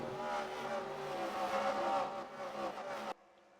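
Race car engine from the NASCAR Racing 2003 video game at Lowe's Motor Speedway, a loud sustained high-pitched roar that holds steady for about three seconds and then cuts off abruptly into near silence.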